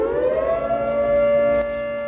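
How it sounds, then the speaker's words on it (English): A loud siren wails, its tone gliding slightly upward and then holding steady before cutting off. "Can the purge sirens please stop?"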